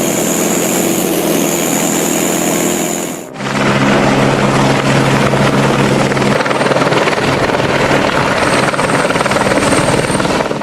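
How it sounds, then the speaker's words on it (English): A tree-trimming helicopter flies over the Oregon coast, its heavy rotor throb steady and loud throughout. The sound briefly dips near the start before the drone returns at full strength. "In the deep blue sky over the Oregon coast, the tree trimming planes soared with 8 spinning blades of death."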